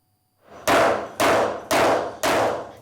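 A carpenter in Nigeria drives nails with a hammer: four loud, sharp metallic blows at an even pace, each ringing briefly before the next. No voices.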